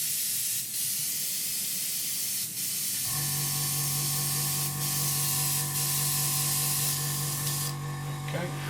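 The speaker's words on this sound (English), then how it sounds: "so we just make sure airbrush is fine. Just pop a tiny bit of cleaner through." An airbrush blows a small amount of cleaner through in a loud, steady close hiss, with a sustained tonal whine joining partway through and continuing to the end.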